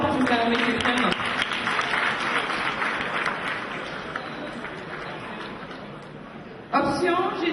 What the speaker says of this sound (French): je vous prierai de les applaudir très fort